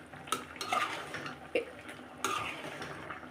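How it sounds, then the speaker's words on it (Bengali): A pot lid is lifted off a pan of cooking pumpkin with prawns, giving a few sharp metallic clinks and clatters over a soft background simmer, close and moderately loud. "আমি এখন ঢাকনা উঠিয়ে দেখব মিষ্টি কুমড়ার কী অবস্থা"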